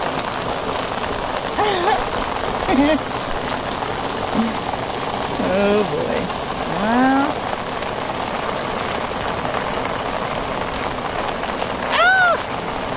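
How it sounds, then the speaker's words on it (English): Hail falls outdoors in the woods as a constant dense hiss and patter of hard pellets, steady and fairly loud throughout, while people speak occasionally over it. "It's hail."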